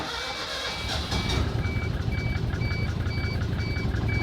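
An old project car's engine catches and settles into a low, buzzy, go-kart-like rumble nearby, while a regular electronic beep repeats over it.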